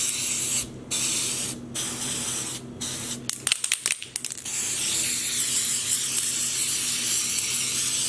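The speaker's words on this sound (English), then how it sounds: "it's marketed as silver food coloring spray" An aerosol can of Wilton Color Mist silver food coloring spray hisses steadily and close up, broken by a few short pauses and quick clicking bursts from the nozzle midway.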